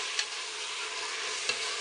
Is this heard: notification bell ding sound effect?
no